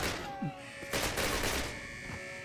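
Gunfire in the 2003 Call of Duty game during a fight at the Eder Dam: a dense, fairly quiet stretch of rapid shots with a sharper burst in the middle.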